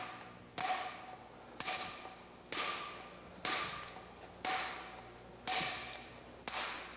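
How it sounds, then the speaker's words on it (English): A hammer strikes stone while rock pitching, chipping the edges: seven sharp, ringing metallic impacts at a steady pace about a second apart, each decaying briefly, close and clear with no talk. "You want to go at about a 30-degree angle where you're chipping off each side."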